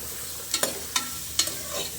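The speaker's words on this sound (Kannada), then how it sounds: "ಹೀರೆಕಾಯಿ ಒಂದು ಸ್ವಲ್ಪ ಹಂಗೆ ಬಾಡಿಸ್ಕೊಳ್ಳೋಣ" Ridge gourd sautéing in a pan, with a few soft stirring scrapes and a light sizzle, quiet and close, no talking.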